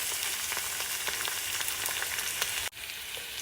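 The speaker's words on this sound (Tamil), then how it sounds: "இந்த அளவுக்கு டாஸ் பண்ணிக்கிட்டே இருக்கேன் நான்" Onions for a mutton liver dish frying and being tossed in a pan, a dense continuous sizzle close by with a brief dip as the pan shifts, no voices.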